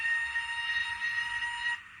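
A horn blast from a TTS sound decoder fitted to a Hornby Firth of Clyde model locomotive: one steady, nasal two-second tone over a background rumble, close up, cutting off near the end.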